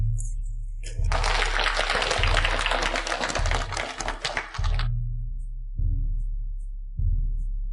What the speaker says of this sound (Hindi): आइए फिर से तालियों की गड़गड़ाहट से शेन परिवार की बेटी का स्वागत करें